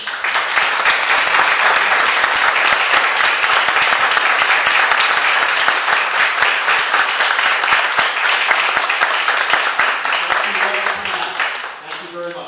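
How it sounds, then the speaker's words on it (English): Sustained audience applause at a Georgia Senate District 48 Republican primary event, loud dense clapping filling the room for over ten seconds before tapering off near the end. "now I want you to give them a round of applause"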